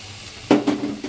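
Soaked rice tipped into a pan of frying tomatoes while cooking coriander-mint rice, a sudden sizzling rush followed by a couple of softer scraping stir sounds, close and fairly quiet.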